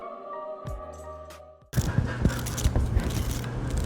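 A soft, tonal hum fades out, then crisp crackling and light crunchy taps from a pile of fried shrimp begin abruptly, close and irregular.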